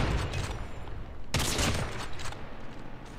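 Sniper rifle fire in Call of Duty Mobile on the High Rise map, a sharp loud shot burst near the middle standing out over busy game noise.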